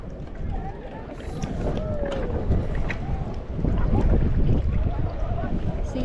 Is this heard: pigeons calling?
no